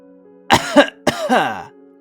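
Two short coughs, close and clear, the second drawn out slightly, with quiet background in between.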